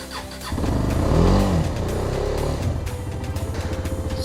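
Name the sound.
KTM Duke 250 motorcycle engine starting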